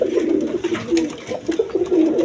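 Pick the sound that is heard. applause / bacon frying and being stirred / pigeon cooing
pigeon cooing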